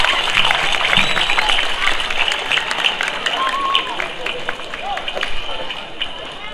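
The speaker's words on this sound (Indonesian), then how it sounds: "Saya ingin minta tepuk tangan apresiasi untuk FKKPPI." A festival crowd at the Tong Tong music and song-writing contest in Sumenep, 2023, claps steadily and densely. Dense, loud and unbroken clapping is mixed with crowd murmur throughout.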